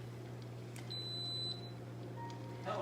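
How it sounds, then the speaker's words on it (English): An Instant Pot pressure cooker gives a short, high electronic beep, then a softer, lower tone follows against a quiet steady hum. "Okay, it's about to beep at me."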